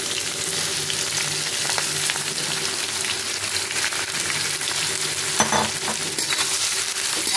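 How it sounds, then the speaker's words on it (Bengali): Chopped onions fry with whole garam masala in hot oil, a loud, steady sizzle with occasional scraping stirs and clinks of the utensil, heard close up without talk. "ভালো করে লাল লাল করে ভেজে নেব।"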